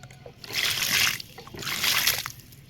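Water splashes into a tub of freshly planted ginger in two bursts, each pour building and then easing off, fairly close and moderately loud.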